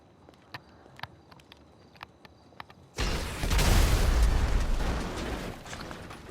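A GTA V missile strikes a car, a loud sustained explosion that roars in abruptly after a few seconds of light clicks and footsteps, then slowly rumbles down.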